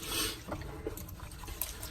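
Water pours into a gold pan held in a kitchen sink, a steady close splashing and running flow that fills the short moment without any talk.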